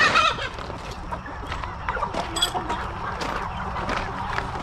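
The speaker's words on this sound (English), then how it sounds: "These are our meat birds. They are the country chickens that you would find in India." Country chickens of the Indian type, kept as meat birds on a family farm, cluck in a steady busy flock close by, with faint voices in the background.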